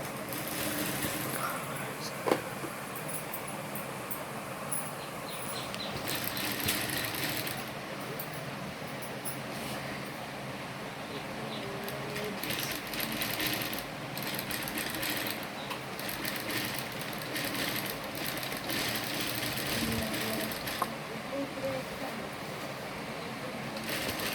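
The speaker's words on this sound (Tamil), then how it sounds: "அந்த ஷேப் வர இடத்துல நம்ம நிறுத்தி ஸ்டிச் பண்ணிக்கலாம்." Sewing machine stitching the neckline of a pot-neck blouse, a steady continuous mechanical whir running throughout at moderate loudness, with a voice speaking in the background.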